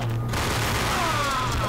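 Video game gunfire in a Max Payne cutscene: a loud, dense burst of rapid shots and booms that runs without a break, with no speech over it.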